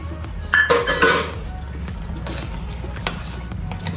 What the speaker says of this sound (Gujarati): ત્રણ મોટા ચમચા ખાંડ નાખવાની